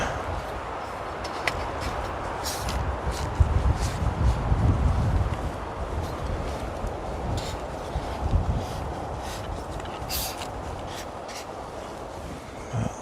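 Steady outdoor wind roar with low gusty buffeting against the microphone, continuous and fairly loud throughout, with a few brief rustles.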